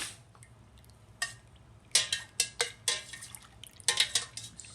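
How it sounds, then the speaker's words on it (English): A spoon stirs hot milk into yogurt cultures in a kitchen bowl, giving a quiet stretch and then a run of sharp, irregular clinks and scrapes against the container, close up, with no talking. "we're going to be adding some of the hot milk into that and stirring it"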